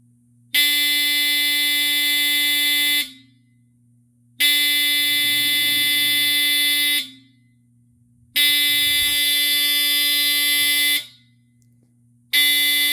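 A 1978 Archer 275-453 smoke alarm sounds a loud electronic tone with a rich buzzy harmonic sound in four long, slow-pulsing blasts, each about two and a half seconds, separated by short silences.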